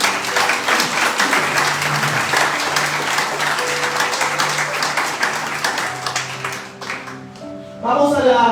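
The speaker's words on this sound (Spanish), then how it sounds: "Denle un fuerte aplauso al Señor." Strong applause from a church congregation during a sermon, a dense, loud roar of many hands clapping under sustained tones and voices, thinning near the end before someone begins speaking.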